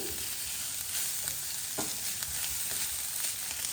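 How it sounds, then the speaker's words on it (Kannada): Ginger paste frying and being stirred in a pan for egg drop soup, a continuous bright sizzle with a few soft scraping strokes of a spoon. "ಶುಂಠಿಯನ್ನು ಚೆನ್ನಾಗಿ ಹಾಕ್ಕೊಂಡ್ಬಿಟ್ಟು ಮಿಕ್ಸ್ ಮಾಡಿ."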